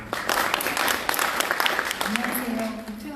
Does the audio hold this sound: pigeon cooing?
no